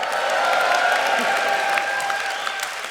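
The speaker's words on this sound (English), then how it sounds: "let's show our solidarity with a cheer that can be heard all the way to Merseyside" Union conference audience in a hall cheering and applauding in solidarity, a dense steady roar of clapping and voices that holds loud for a few seconds before easing slightly.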